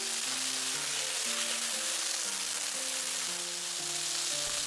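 Stir-fry sauce sizzles and steams in a hot covered pan, a steady loud hiss of frying with a faint tonal hum running underneath, no voices.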